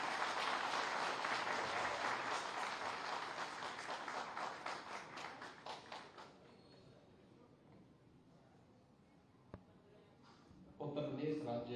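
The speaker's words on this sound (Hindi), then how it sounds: "आपकी तालियों के अभिवादन के साथ।" An audience applauds at an Uttar Pradesh state information commission event launching complaint-tracking software and a mobile app, a dense burst of clapping that fades out over several seconds before a voice begins speaking.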